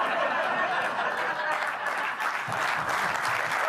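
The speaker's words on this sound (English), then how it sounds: "big applause break here" A studio audience breaks into applause during a comedy segment, full rolling clapping mixed with some chuckles and laughter, loud and continuous, with faint voices beneath.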